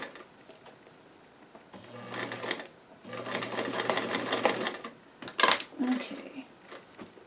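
Two short, slow bursts of a sewing machine stitching pinned doll-size jeans, separated by a brief pause, followed by a few small clicks and handling knocks; a voice is faintly present.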